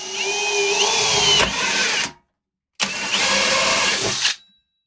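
An electric drill whines loudly in two long bursts, its pitch rising as it bites into a metal toolbox, then cutting off with a short pause between.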